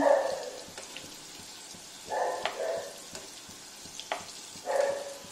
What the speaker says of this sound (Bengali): আমি সবগুলো কোপ্তার বড়াইয়ের মধ্যে দিয়ে দিয়েছি। আস্তে আস্তে করে ভাজছি।